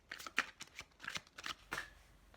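Tarot cards are shuffled in quick riffling bursts, a series of close, crisp flutters and slaps with short pauses between them and no talking.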